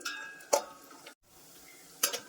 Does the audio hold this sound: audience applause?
no